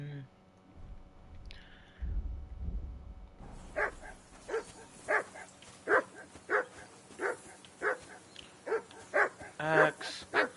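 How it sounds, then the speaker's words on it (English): A dog barks repeatedly in the medieval video game Kingdom Come: Deliverance 2, a steady run of sharp barks about every half second over a quiet campsite background, after a brief low rumble. "That dog of yours is barking like the devil."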